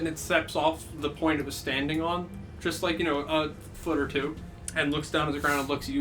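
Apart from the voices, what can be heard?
None of the usual background noises is heard.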